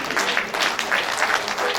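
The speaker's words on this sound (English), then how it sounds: "Can you clap for them?" A conference audience claps briefly for a group of women, a short burst of scattered hand claps with uneven, pulsing bunches rather than a full roar.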